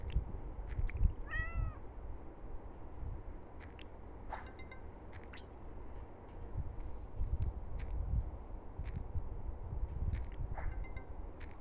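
A cat meows briefly a couple of times, faint and partly buried under a steady, noisy background with scattered clicks.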